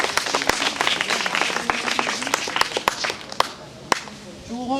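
An audience claps at a talk in Pandurna Range, South Chhindwara: a steady scatter of sharp, close hand claps that thins out toward the end while a voice speaks underneath.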